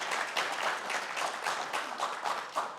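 Audience applause fills the hall at a Veterans Day 2023 celebration during a keynote address: a dense, steady wash of many hands clapping at once, sustained and fairly loud throughout, with no talk over it.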